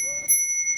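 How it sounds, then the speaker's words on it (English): A single ring from the handlebar bell on an ENGWE P275 ST mid-drive commuting e-bike, a clear close chime that sustains evenly and fades slowly, with no other sound around it. "Proper ringing bell."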